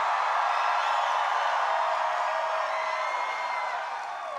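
Cheering from a large crowd of supporters at a rally forms a dense, steady roar of many voices that fades slightly toward the end, loud and continuous with no single voice standing out.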